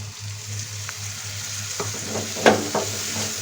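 Green peas added to sizzling tomato masala in oil for baingan bharta; loud continuous frying hiss with stirring scrapes and a sharper clatter near the end, no talk.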